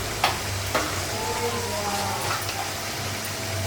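Ginger paste frying in a pan with salt, a steady close sizzle under a low hum, with a couple of sharp clinks near the start.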